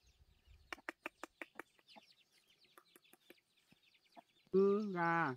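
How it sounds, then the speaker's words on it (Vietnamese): Chickens cluck softly in a quick series of short, close notes, then scattered quieter clucks, ending in a louder drawn-out squawk from one bird. "Ừ, gà."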